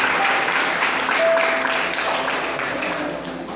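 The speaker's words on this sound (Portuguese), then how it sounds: "dê uma salva de palmas para Jesus bem forte" A church congregation gives loud, sustained applause for Jesus during a worship service, dense clapping filling the room throughout and easing slightly at the end.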